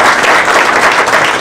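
Dense, loud audience applause for children who built robots, greeting them on a kids' TV show stage; a steady wash of many hands clapping that holds evenly throughout.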